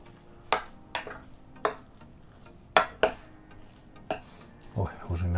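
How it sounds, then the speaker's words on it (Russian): A spoon stirs a cheese and mint filling for khinkali in a bowl, making about eight sharp, separate scrapes and clinks at an uneven pace, close and fairly quiet, followed by softer rustling at the end. "Перемешиваем все это дело до однородности."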